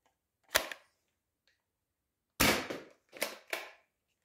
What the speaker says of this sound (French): Maintenant, on va essayer des Quick Dart, des munitions des Jet Blaster